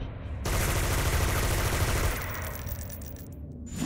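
Gunfire in the City of Villains game comes as a dense burst of rapid shots, a continuous loud rattle lasting a couple of seconds before fading into quieter game sounds.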